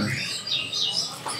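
Small birds at an Indonesian bird market chirp in quick, bright bursts, a few high tweets rising and falling close by over faint background noise.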